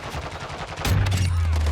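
Bryson 800 shotgun fired in Call of Duty Modern Warfare 2, a single loud booming blast with a ringing low tail, following a stretch of dense game noise.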